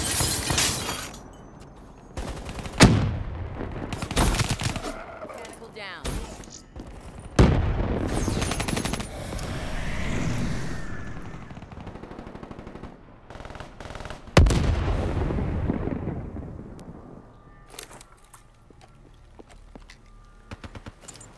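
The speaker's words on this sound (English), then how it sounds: "Hostile hellstorm overhead." Hellstorm missile strikes and gunfire in the Black Ops 3 multiplayer game: several sharp, heavy blasts and bursts of shots, each followed by a rumbling decay, spread across a tense match with quieter gaps between.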